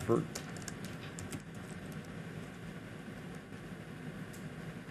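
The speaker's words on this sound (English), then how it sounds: "we've already seen my typing" Faint typing on a computer keyboard, a scatter of soft clicks and taps over a low hum of room noise, quiet and close.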